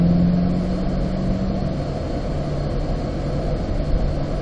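Interior rumble of a car braking hard from 35 mph on a track with ABS engaged, a steady loud road and engine roar with faint pulsing tones, no voices.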